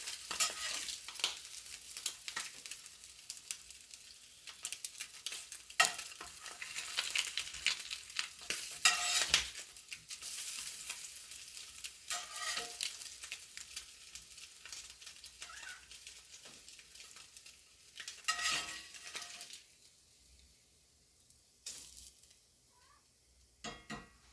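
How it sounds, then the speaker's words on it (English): Spam sizzles in a skillet with a hissing, crackling fry that swells and fades in bursts, with a few louder spits and quieter stretches throughout. "you listen to the sizzle of that Spam while it sits"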